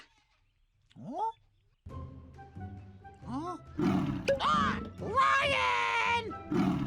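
A toy lion from a children's animal surprise egg gives a cartoonish roar after a few short rising cries, loud and close, with a brief exclamation from a voice near the start.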